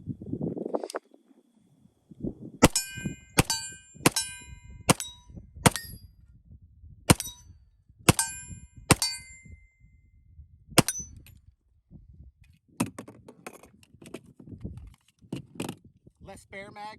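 A TISAS 1911 Duty SS45R pistol loaded with nine rounds fires in a string of sharp, close shots, irregularly spaced with ringing metallic clangs, followed by a quicker cluster of shots near the end.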